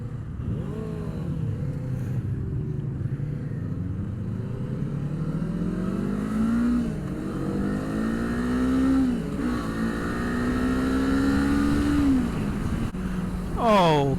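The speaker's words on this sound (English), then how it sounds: "Engine smooth." A Kawasaki Eliminator 450 motorcycle engine runs steadily, its tone rising and falling smoothly through gear changes as it cruises, close and continuous for about fourteen seconds under wind noise.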